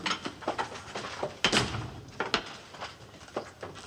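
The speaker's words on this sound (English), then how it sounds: "Shut the doors." Several wooden doors are shut in quick succession, a series of sharp knocks and thuds at irregular intervals, one louder slam standing out near the middle, with no talk over them.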